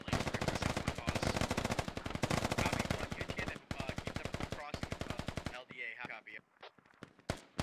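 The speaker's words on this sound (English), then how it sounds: "The Russians are shooting it back." Dense, rapid automatic gunfire from Russian forces in the Squad video game, with sustained bursts that break off in places, followed by sparse single shots and quieter gaps near the end.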